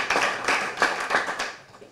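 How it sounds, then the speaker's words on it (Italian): Audience clapping during an Italian lecture at a summer university, a short burst of distinct, fairly close hand claps in a loose rhythm that thins out after a second or so. "vi prego di fare un applauso"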